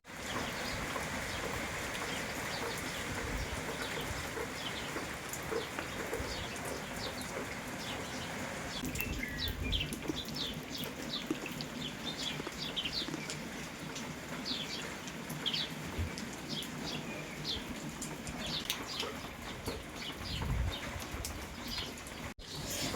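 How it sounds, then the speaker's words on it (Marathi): Dense, steady downpour hissing without a break, with scattered bird chirps and a few flutters mixed into the wash of rain. "तर बघितला का किती पाऊस मोठा आहे"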